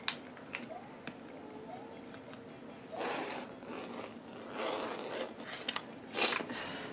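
Scissors cut through skirt fabric for a Princess Peach cosplay, giving quiet, intermittent snips and rasping slides in short bursts, close up, with no talk.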